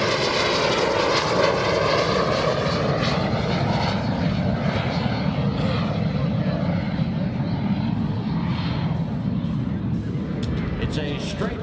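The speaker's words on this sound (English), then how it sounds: "It's a straight wing jet as opposed to the swept wings that you see flying today in the modern military." Aero L-39 Albatross straight-wing jet flying at an air show in New York, its loud steady engine roar filling the scene throughout, with a faint announcer voice blended into the noise.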